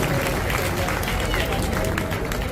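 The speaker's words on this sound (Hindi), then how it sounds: "जोरदार तालियों से सम्मान करें।" Loud, dense applause from a large crowd at a job fair held by the Shiv Sena Shinde group and Basera Foundation, a steady wash of clapping that holds without pause for the whole stretch.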